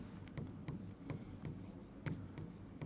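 Chalk or marker strokes on a classroom board as a physics teacher writes, a steady run of short scratchy taps and rubs at close range with no talking over them.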